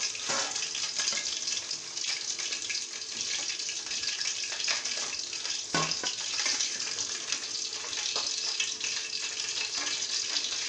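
Chicken 65 pieces deep frying in hot oil, a steady dense sizzle and bubbling hiss lasting throughout, moderately close with no talking.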